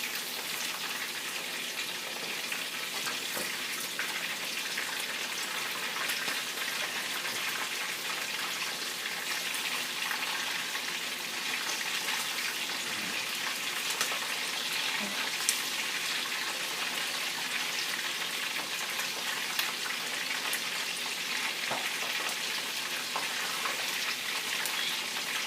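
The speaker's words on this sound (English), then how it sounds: "We have the chicken after frying" Pieces of seasoned chicken fry in hot oil in a pot for Haitian chicken in sauce, giving a continuous bright sizzle and crackle with scattered pops, steady throughout.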